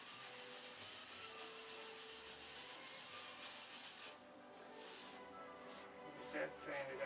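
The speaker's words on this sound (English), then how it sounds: "Get that sanded out." Hand sanding with sandpaper on a control line model aircraft finish, working through 600 grit: a steady, close scratchy rubbing that runs continuously, with some uneven strokes near the end.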